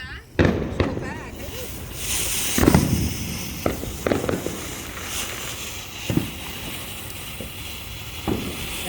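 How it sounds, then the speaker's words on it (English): A butterfly firework goes off outdoors during a Fourth of July celebration, giving scattered pops and crackles along with bursts of hiss. People talk and call out over the noise. "we got Alexandra turning on the butterfly firework"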